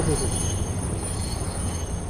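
A train in the video game Satisfactory rumbles steadily and evenly throughout, a continuous rolling drone with a faint voice underneath.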